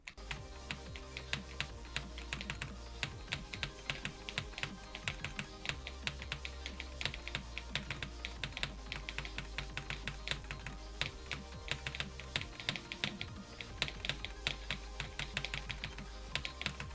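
Fast typing on a computer keyboard produces a dense, steady stream of close, crisp key clicks and taps that runs throughout with no voices.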